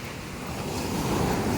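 Sea waves wash steadily at White Beach, Puerto Galera, a dense, continuous surf roar that swells slightly louder over the moment, with wind noise on the microphone and no voices.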